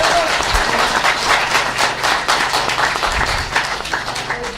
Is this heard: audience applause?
yes